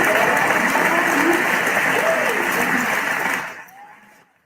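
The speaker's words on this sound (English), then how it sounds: "Give her a round of applause." Audience applause at the close of an interview with a guest artist, a full burst of many hands clapping steadily before fading quickly to silence in the last second.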